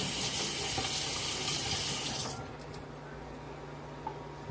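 Tap water runs steadily into a sink while something is rinsed off during kitchen prep, then shuts off abruptly partway through, leaving a quiet room.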